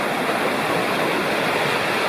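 Lost Cove Creek, a mountain creek in North Carolina wilderness, rushes in a steady, dense wash of flowing water, close and continuous with no other sounds.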